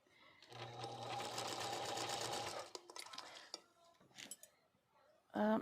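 A sewing machine runs fast and continuously for about two seconds while restitching a quilt border, then stops, followed by scattered clicks and handling noises and a short loud clatter at the end.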